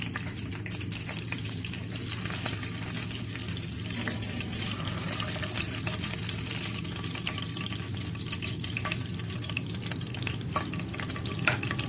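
Fish sizzles and crackles steadily in hot oil for a Lahori masala fish fry, a dense, continuous spatter close by with occasional stirring and no talk.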